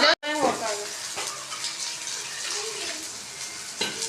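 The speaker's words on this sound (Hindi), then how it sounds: "अब हम इसमें शामिल करेंगे हस्बे ज़रूरत पानी" Water pours and splashes into a pot over sizzling, bubbling food, a steady wet rush at close range with a brief clatter near the end.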